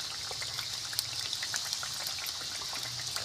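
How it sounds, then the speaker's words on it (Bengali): Biscuit dough of flour and semolina deep-frying in plenty of hot oil, a steady dense crackling sizzle with fine bubbling pops running evenly throughout, close and moderately loud with no talk. "এটা আমি একটু বেশি করে তেল দিয়ে ডুবো তেলে ছেঁকে নেবো"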